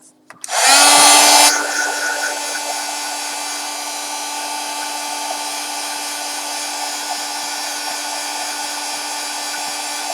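A hair dryer switches on with a loud initial burst, then settles into a steady, continuous high whoosh while drying napkin decoration on a paper tag.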